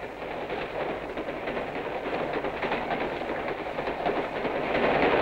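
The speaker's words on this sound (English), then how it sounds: "As the trains race across country" A passenger train racing across open Australian country gives a steady, loud broadband rumble that builds slightly toward the end, with faint rhythmic clatter from the rails and no voices.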